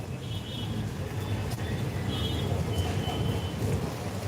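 Heavy rain pours steadily with rolling thunder, a constant loud wash of drops and low rumble, with a few sharper cracks and no voices.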